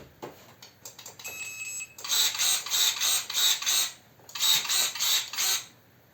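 SHIDOKU cordless electric pruner converted from two-contact to three-contact battery, switched on and run: clicks first, then two bursts of loud rhythmic mechanical whirring pulses close by, separated by a short pause.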